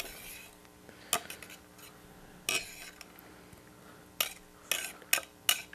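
A heavy cutting board being handled and scraped in a kitchen, with a few sharp clinks and scraping knocks spaced irregularly over a quiet background hum, near and moderately loud.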